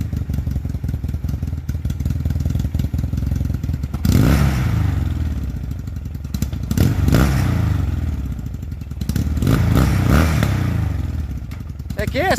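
Yamaha XS650 motorcycle engine revving hard in surges, rising and falling under a steady roar, with a loud burst of power around the middle and people talking over it.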